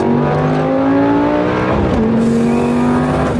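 A Lamborghini Gallardo SE in sport mode accelerates hard, its engine note loud and close, pitch climbing steadily, dipping briefly at a gear change, then rising again.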